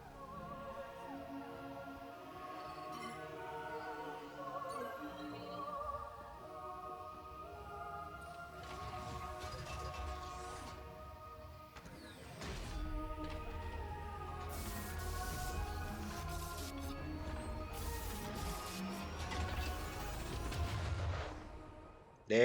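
In the video game Metroid Prime 4: Beyond, a cargo launcher fires with heavy booming bursts midway and toward the end, set against steady background game music, at a fairly low overall level.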